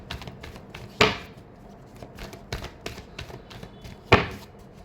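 Tarot cards are shuffled by hand in a few short riffling bursts, each with a sharp snap, set among quieter shuffling and handling sounds close by.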